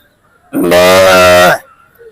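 A man imitates a cow, giving one loud, close, sustained mooing call of about a second that ends abruptly.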